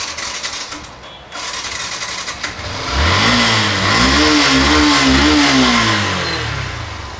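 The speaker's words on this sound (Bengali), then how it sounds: "নেক্সট এফজেড ভার্সন 2 দেখতে পাচ্ছি" A used 2022 Yamaha FZ version 2 motorcycle with an untouched engine and about 8,200 km revs up from a low idle, its mid-pitched engine note climbing and wavering through several throttle blips, loud and close, with no talk over it.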